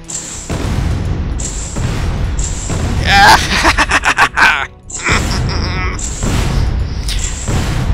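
Missile explosions in the video game Space Engineers land as a burst of loud booms and rapid pops in the middle, surrounded by someone talking over the game audio.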